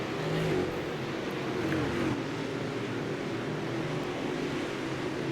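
Super late model race cars circling a track at the Christmas Clash at Texas, a continuous drone of engines at mid distance, with a few rising and falling tones from cars passing through the pack.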